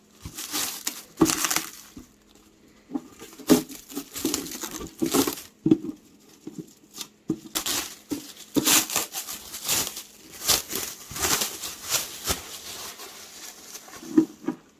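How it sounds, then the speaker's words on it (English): Packaging being unwrapped from a Mars 3 Pro resin 3D printer, with steady close crinkling, rustling and crackling of plastic and foam in irregular bursts, no talking. "Unwrap this thing."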